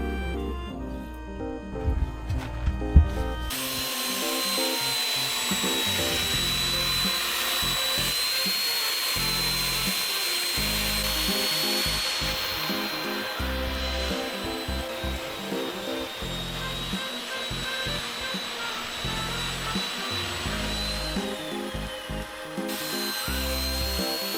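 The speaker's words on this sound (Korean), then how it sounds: "드디어 죽은 나무를 절단했습니다." Chainsaw cutting through a dead tree outdoors, a steady loud buzzing drone that holds for most of the cut, opening with a few sharper bursts.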